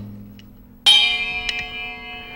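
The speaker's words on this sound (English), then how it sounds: "Sometimes you want to sound like of a bell." A cymbal is struck once to ring like a bell, a sharp bright attack followed by a long sustained shimmering tone that slowly decays, with a couple of light taps and a faint low hum before it.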